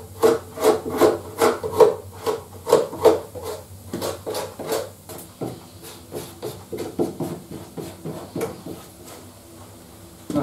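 Premium-grade wood filler is forced into the gaps of a molded panel hollow door, a rhythmic series of scraping, rubbing strokes close up, steady at first and then looser and more irregular.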